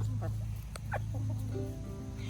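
A pet bird gives a few soft, short clucks close by, faint over a steady low hum, with a person speaking quietly.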